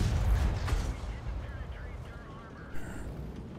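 A tank cannon shot from an M18 Hellcat in a video game booms loudly at the start, a deep blast that fades into rumbling low ambience, with a voice speaking faintly over it.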